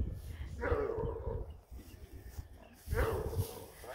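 A three-year-old female purebred Bluetick Coonhound gives two bursts of soft barking mixed with whimpering, close by, separated by a brief lull.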